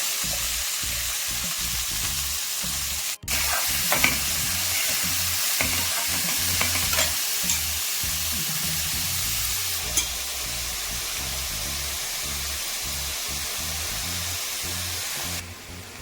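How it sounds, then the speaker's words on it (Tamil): Chopped onion and garlic sauté in a hot pan for a Tamil kuzhambu. A steady, dense frying hiss continues throughout, close and even, with a brief clatter near the start. "வெங்காயம் பூண்டு நல்லாவே வதங்கிடுது"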